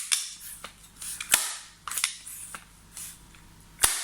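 A Zoraki blank pistol fired without its sound moderator, about 20 cm from a phone microphone: several sharp, loud cracks at irregular intervals, with fainter clicks between them and no talking.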